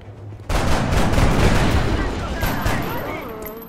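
Gunfire in XCOM: Enemy Unknown with the Long War mod, a dense burst of overlapping shots and booms that starts abruptly and keeps going, loud and close, then slowly fades, with a voice talking underneath.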